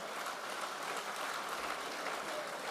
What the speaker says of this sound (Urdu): میں چاہتا ہوں کہ ایک مرتبہ ڈھیر ساری تالیاں ان امیر محترم کے لیے